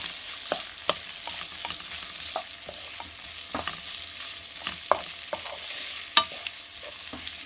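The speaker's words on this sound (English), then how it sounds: "Now that's added, stir it around." Vegetables with a teaspoon of soy sauce being stirred in a wok over medium-high heat: a continuous soft sizzle broken by repeated close scrapes and taps of the spatula.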